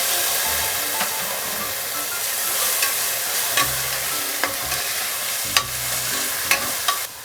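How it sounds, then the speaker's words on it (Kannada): Chopped tomatoes land among onions frying in a little oil for a dalia dish, giving a loud, continuous sizzle with scattered clicks and scrapes of stirring throughout, close by and with no talking. "ಇದಕ್ಕೆ ಹೆಚ್ಚಿಟ್ಕೊಂಡಿರೋ ಟೊಮೆಟೊ ಹಾಕ್ತೀನಿ"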